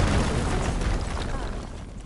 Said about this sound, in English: would you mind warning me next time you decide to, blow up a wall?